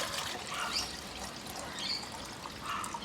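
Water poured into the pot of a Campmaster UltraJet camping stove to measure about a litre, a steady trickling and splashing pour that runs continuously at close range without any talk.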